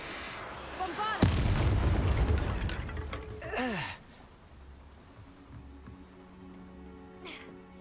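A Bombarda blast spell in a Harry Potter video game: a loud booming explosion with rumbling debris and a whooshing swirl, followed by a second sweeping magical burst before fading into quiet ambience.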